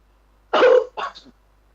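A single close cough in two quick bursts, a rough forceful hack followed by a shorter throaty catch, alone in a quiet room.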